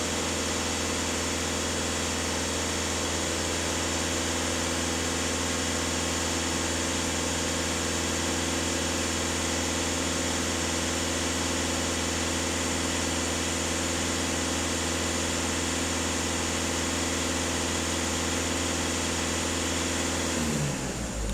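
Steady, continuous diesel idle from a VW Caddy Maxi 2.0 TDI, a loud even hum with fixed engine harmonics that holds for about twenty seconds, then a brief rise in pitch as the throttle is opened at the very end.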